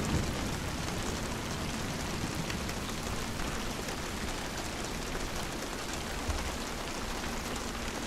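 Rain falls steadily in the Hunt: Showdown video game at an extraction point, a dense continuous hiss of drops with no talk over it.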